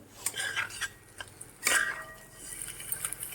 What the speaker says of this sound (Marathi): एक दोन ते तीन मिनिट ह्याला मस्त हलवून घेते